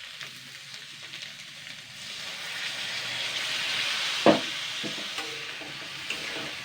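Half a cup of water poured into a hot wok starts a steady, rising sizzle and hiss that builds and holds, with a brief sharp clatter partway through, fairly quiet overall.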